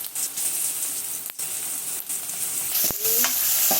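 Onions and spices sautéing in a pan, a dense continuous sizzle with a few scraping stirs of a spoon, close and fairly loud, no voices.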